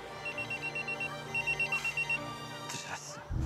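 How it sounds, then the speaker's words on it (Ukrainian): A telephone rings indoors in a quiet room, a repeated pulsing electronic ring in two bursts, moderately near and fairly soft, ending with a brief clatter as it is picked up. "Телефон, вибачте."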